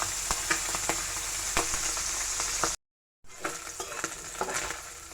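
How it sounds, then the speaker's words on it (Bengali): Tangra fish fry in hot oil in a wok, giving a close, continuous sizzle with light crackles. A brief dead-silent cut breaks it midway before the sizzling resumes. "এই যে কড়াইয়ে আমি মাছগুলো দিয়ে দিয়েছি তেলটা গরম হয়ে গিয়েছে এখন এগুলিকে ভেজে নেব"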